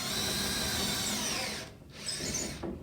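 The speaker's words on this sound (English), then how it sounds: "So I'm just going to drill a hole," A power drill bores a hole into a 55-gallon barrel, its motor whining steadily at close range for over a second and a half, then cutting out briefly before a second short burst.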